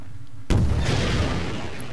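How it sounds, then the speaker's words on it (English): A rocket explosion in a first-person shooter video game, fired at a sniper: a single sudden loud broadband boom that hits at once and then rolls on as a sustained rumbling roar, heard alone with no talk. "using a rocket to take out a sniper is great"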